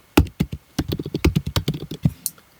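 Quick bursts of typing on a computer keyboard while writing Python code for a simple whack-a-mole style game, keys clacking close and fairly loud in an uneven rhythm for a couple of seconds.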